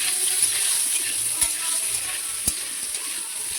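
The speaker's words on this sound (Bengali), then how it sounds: "এবার আলুটাকে নাড়বো।" Potatoes with turmeric stirred in a frying pan give a steady close sizzle, with a couple of sharp scrapes of the spoon against the pan.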